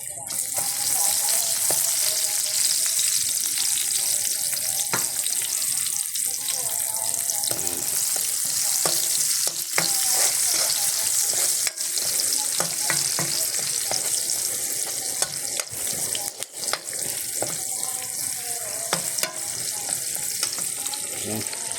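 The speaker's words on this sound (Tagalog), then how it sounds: "Ilagay tayo ng sibuyas" Onions frying in a pan, a loud continuous crackling sizzle with frequent clicks and scrapes of stirring, plus a faint splash of water in the background.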